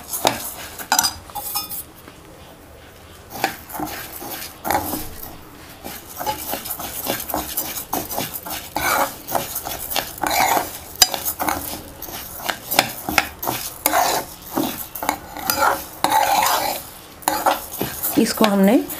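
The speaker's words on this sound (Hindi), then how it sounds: "ये जो चावल हम डालते हैं इसमें, इसमें जब भूनते टाइम इनकी बहुत ही अच्छी खुशबू आने लग पड़ेगी" Rice dry-roasted and stirred in a pan for til cholli, with a spoon scraping and clinking against the metal in busy irregular strokes, close and fairly loud with brief pauses.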